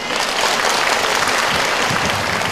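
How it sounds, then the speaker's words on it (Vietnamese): A theatre audience at a cải lương performance breaks into loud, dense applause, continuous close clapping from many hands that fills the room evenly from start to finish. "chúng ta hãy dành một tràng pháo tay để chia tay nghệ sĩ Ngọc Đán"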